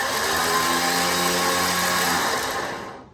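A Rough Country electric winch running after a repair, its motor giving off a loud, steady, even whine close by for about three seconds, then winding down as it stops, with no talk.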